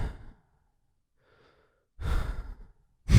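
A man imitates heavy breathing with his voice: a soft breath, a pause, then a louder rasping exhale and the start of another, close to the microphone with no words.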